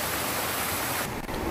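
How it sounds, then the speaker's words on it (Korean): A rainwater channel pours out a waterfall-like stream beside stone steps in a city valley, producing a constant broad rushing roar up close that dips slightly near the end. "오른쪽은 빗물바지인 것 같은데 물이 폭포처럼 쏟아지네요"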